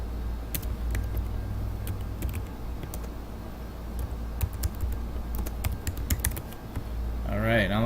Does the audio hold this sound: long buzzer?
no